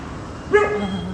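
A single short, sharp bark with a slight yelping edge from a village dog in Kerala, close and clear against a quiet background.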